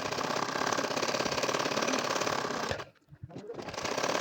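A home sewing machine runs steadily while stitching a nakshi kantha baby quilt, a continuous close whirring that breaks off briefly near the end with a few soft clicks before restarting.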